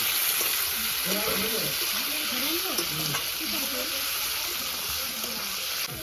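Onions and tomatoes fry together in a pan, a steady close sizzle with soft stirring scrapes running throughout, while voices murmur faintly beneath.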